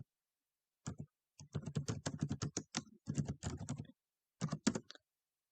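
Typing a message on a computer keyboard: quick, close bursts of key clicks in several rapid runs separated by short pauses, with no talking.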